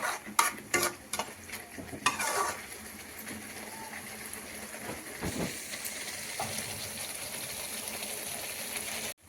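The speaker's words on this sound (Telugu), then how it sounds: "టమాటో కాజు పేస్ట్ వేసుకున్నాక మంచిగా ఫ్రై చేసుకోవాలండి" Tomato and cashew paste stir-fried in a pan for paneer curry, with a scraping spoon and steady low sizzle; a few sharp clacks of the utensil early, then continuous soft frying hiss, close and moderately loud.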